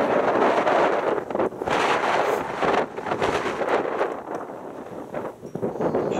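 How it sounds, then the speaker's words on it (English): Gusty wind buffets the microphone throughout a drone test flight for a Procyon 800E with a 2 kilogram payload, a loud continuous roar that rises and dips in waves. "It's a bit windy, but it's dying down a little bit right now"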